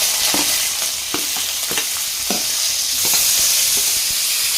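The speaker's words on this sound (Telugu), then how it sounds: "ఇప్పుడు ఆనియన్స్ కరేపాకు వేసుకుందాం" Onions and curry leaves fry in a pan for a dish of bisi bele bath, giving a loud, steady sizzle with the light scrape and tap of stirring spaced through it, and no talking.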